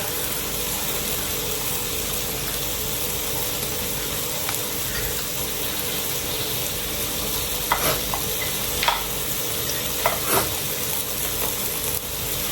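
Food crackles and sizzles steadily in hot oil while being stirred, with a few sharper scraping clicks standing out near the end; no one speaks.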